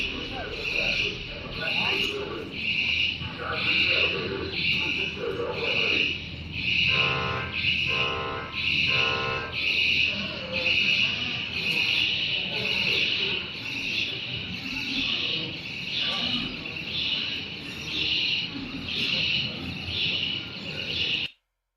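UAV drones during an attack on Zelenograd, Russia, give off high, chirping buzzes in a quick repeating pulse, like agitated birds, steady and fairly loud throughout before cutting off abruptly at the end.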